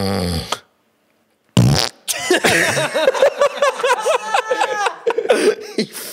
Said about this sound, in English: He farted while he was asleep.